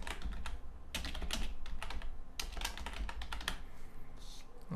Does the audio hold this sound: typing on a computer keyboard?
yes